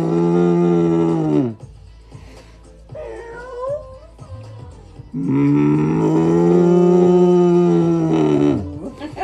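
During a yoga session, people imitate cats and cows with their voices, giving drawn-out, wavering moos and meow-like cries. A long sustained call comes first, then a pause with softer bits, then another long, loud bellowing call.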